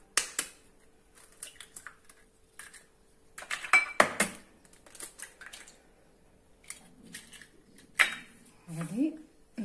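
Four eggs go into a savory cheese cake batter in a bowl, with sharp clinks and knocks of dishes and utensils scattered among quieter kitchen handling and gaps.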